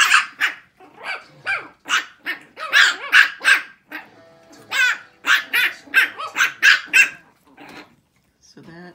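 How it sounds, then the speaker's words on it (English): Six-week-old puppies from one litter bark at each other in a playful fight: rapid, close bursts of high yips and barks with brief gaps, trailing off into quiet at the end. "So that is Bo and Spencer having a barking fight."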